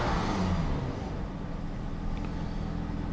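A Jaguar car engine, a loud close running rumble that is strongest at the start and then settles into a steady, lower idle.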